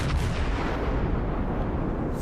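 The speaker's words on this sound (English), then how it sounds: "Full volley out." Main battery volley from the Japanese heavy cruiser Myoko in World of Warships, a dense, loud, sustained roar of naval artillery with continuous low rumble and no pause across the clip.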